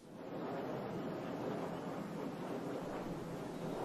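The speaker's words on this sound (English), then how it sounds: "Wind turbines emit different sound patterns depending on which way and how hard the wind is blowing" Giant wind turbines in Canada give off a continuous low rumbling whoosh with a faint hiss on top, heard from a distance. The sound stays steady, broad and unbroken, with no voices.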